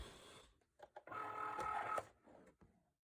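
A Cricut cutting machine loads and cuts a mat with quiet mechanical whirs and a motor hum. Short clicks and buzzing pulses sound close and faint, followed by a brief stop.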